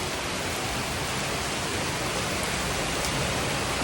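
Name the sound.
heavy rain falling in the mountain village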